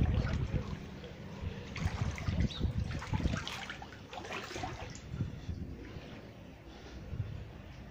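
Floodwater sloshing and trickling inside a storm-flooded house's patio area, with irregular splashing and dribbling close by, fairly loud and continuous, with faint voices now and then.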